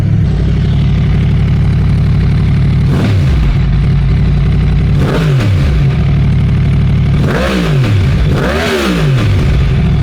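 A 2023 Yamaha MT-10 with a Pipewerx R11 carbon underslung aftermarket exhaust idles steadily with a deep, throaty rumble, with a few quick blips of the throttle rising and falling over it.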